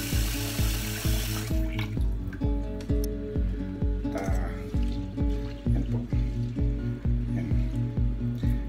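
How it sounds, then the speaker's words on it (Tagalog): Uncooked rice washed by hand in water: a running tap at first, then steady rhythmic swishing and sloshing of grains in a basin, close and fairly loud. "So, atin pong hugasan ang bigas."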